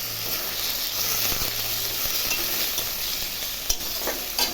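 Potatoes and onions fry in hot oil tempering for a small-fish curry, a steady close sizzle with occasional stirring clicks and scrapes, and no voices.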